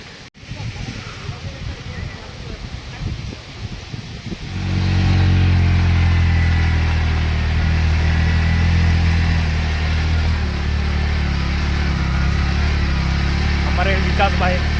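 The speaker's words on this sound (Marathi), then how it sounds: "हमारे विकास भाई चला रहे गाड़ी" A car being driven on a monsoon trip to Kataldhar waterfall, its engine a loud, steady low drone that settles in after the first few seconds, with voices talking over it.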